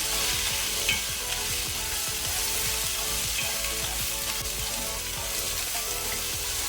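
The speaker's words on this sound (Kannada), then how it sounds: "ಈಗ ಇದನ್ನು ಹೈ ಫ್ಲೇಮಲ್ಲಿ ಒಳ್ಳೆ ರೀತಿ ಮಿಕ್ಸ್ ಮಾಡ್ತಾ ಮಾಡ್ತಾ ಫ್ರೈ ಮಾಡಬೇಕು" Okra with turmeric fries on a high flame, giving a steady close sizzle that runs throughout, with frequent stirring scrapes and light clatters of the spoon in the pan.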